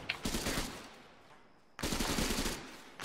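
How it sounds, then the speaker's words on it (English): Grenade launcher fire in ArmA 3 gives two loud, rough bursts separated by a quieter gap, with a final hit at the end, heard without speech. "we're thinking fucking grenade launcher fire"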